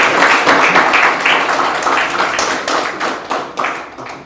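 Classroom applause for a classmate during a school lesson, a loud burst of clapping that holds steady and then breaks into scattered, fading claps.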